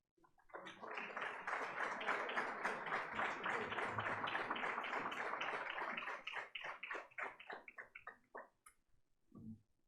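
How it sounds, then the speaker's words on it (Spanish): An audience applauds a keynote speaker at a monthly meeting, sustained dense clapping for about five seconds before thinning into scattered claps and fading out. "Recibámosla con un fuerte aplauso."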